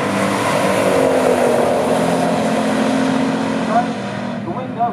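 A 1969 Plymouth Road Runner and a 1969 Chevrolet COPO Chevelle in a stock drag race roar under announcer commentary, the engines' steady loud drone fading slightly toward the end.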